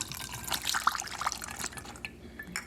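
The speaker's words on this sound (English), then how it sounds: "So first we're going to do our alcohol. I'm going to pour that in." Alcohol poured from a container into a spray bottle for a homemade couch linen spray, a close, steady liquid trickle with small splashy drips, loudest mid-pour and tapering off near the end.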